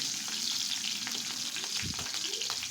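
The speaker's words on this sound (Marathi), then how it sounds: "यानंतर मी याच्यामध्ये मिरची घालत आहे तर मिरची आधीच घालायची म्हणजे व्यवस्थित भाजते" Green chilies sizzle and crackle in hot oil for a dal tempering, a close, busy frying hiss with small spits and a brief stir.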